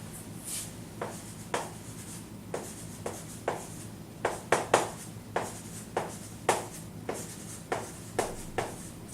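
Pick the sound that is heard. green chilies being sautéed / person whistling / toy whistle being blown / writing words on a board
writing words on a board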